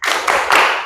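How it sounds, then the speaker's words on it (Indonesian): A classroom group does a short spirited cheer clap, a quick burst of loud unified hand claps in a few rapid beats, close and without talk. "Baik, tepuk semangat."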